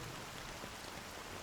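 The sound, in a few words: rain falling in Honkai Star Rail video game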